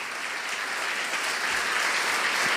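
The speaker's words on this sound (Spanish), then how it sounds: "le dan un aplauso al Rey en esta tarde" Steady, dense applause from a church congregation during an evangelical service, sustained and fairly loud throughout, without a break or any voices standing out.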